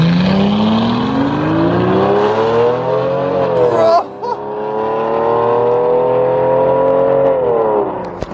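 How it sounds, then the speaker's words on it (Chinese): A loud, close Mercedes-Benz S600 with a V12 engine revs after an exhaust change. The engine pitch climbs steadily into a sustained roar, drops with a brief blip near the middle, then rises and holds again before easing off. "不愧是 V12 的发动机"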